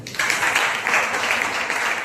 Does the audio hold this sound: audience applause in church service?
yes